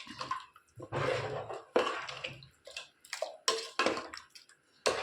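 Water is poured into a pot of homemade chicken curry in several short, separate splashing bursts with quiet gaps between them, close and fairly soft.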